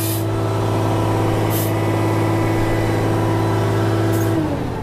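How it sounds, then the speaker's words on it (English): A hydraulic chainsaw powered by a Mercedes Unimog FLU419 SEE tractor runs with a steady, loud engine drone and hum, pitch dropping slightly near the end, with no talking. "Got a hydraulic chainsaw going on there."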